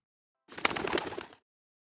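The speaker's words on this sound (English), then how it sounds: "A sparrow flew down." A bird sound effect for a sparrow flying down: a single short cooing, chirping call with a flutter, lasting under a second against silence, close and clear.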